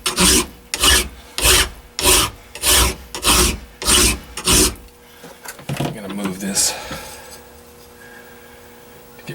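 A hand file rasps metal while shaping an AR15 wrench, about eight loud, evenly spaced strokes in a steady rhythm, followed by a few softer scrapes and handling noises as the filing stops.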